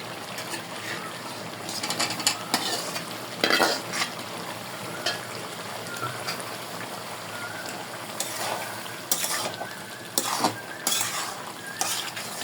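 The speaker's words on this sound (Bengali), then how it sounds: "এখন আলু দিয়ে দেব।" New potatoes go into a pan of frying goat tripe bhuna and are stirred in, with a continuous sizzle broken by repeated spoon scrapes and metallic clanks against the pot.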